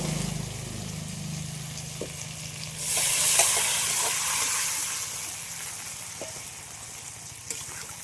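Tomato frying in a pan as boiled potato and elephant foot yam go in, a steady close sizzle that swells sharply partway through, with a few clinks of stirring and no speech.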